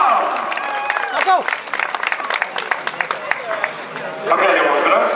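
Applause at a prize ceremony for a running race, clapping scattered and uneven beneath a voice speaking, then a fuller burst of clapping toward the end.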